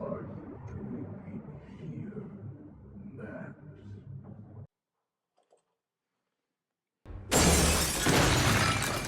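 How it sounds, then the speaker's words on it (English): A glass shatter from a TV drama scene of stained glass being broken, a sudden loud crashing burst after a stretch of silence, preceded by people talking. "I wonder if he's gonna be pissed that they broke the stained glass."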